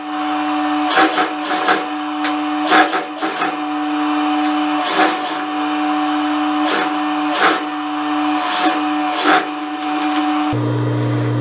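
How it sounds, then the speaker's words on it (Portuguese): A sewing machine runs a blouse seam at normal seam allowance in steady motorised bursts, its whirring hum broken by brief pauses and repeated short stitching runs, close and alone. "Agora, eu vou trazer aqui pra máquina e vou passando a costura com a margem de costura normal"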